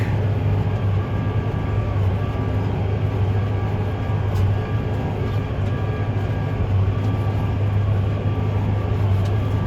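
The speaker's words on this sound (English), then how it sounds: "Here's our stack truck." A hay bale stack truck rolls through a field during organic baleage haymaking, its continuous low engine rumble and rattling drive steady and fairly loud throughout, with no talking.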